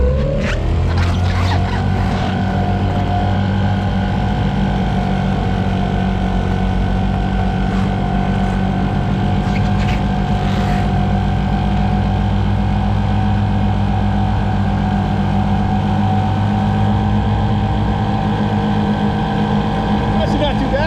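A small 1960s mid-engine boat, abandoned and revived, runs under steady throttle. Its engine gives a loud, continuous droning roar that rises sharply at the start and then holds close and constant for the whole stretch.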